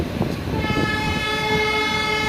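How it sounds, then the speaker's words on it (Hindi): Kota Patna Express train leaving Indargarh Sumerganj Mandi station, with a loud, sustained horn blast over the low rumble of the moving coaches. "और अपनी ट्रेन रवाना हो चुकी है इंदरगढ़ सुमेरगंज मंडी से।"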